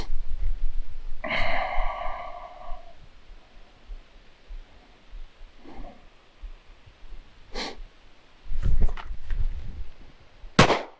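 Two pistol shots are fired from the holster at a range target during a Dot Torture accuracy drill. They come as two sharp cracks a few seconds apart, amid quiet breathing and faint handling noise.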